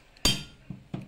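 Eggs cracked into chocolate cake batter: a sharp knock of shell against a bowl rim, then two softer taps, close and alone, with no talking.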